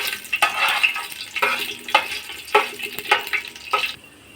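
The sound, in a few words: whole spices frying in hot oil for biryani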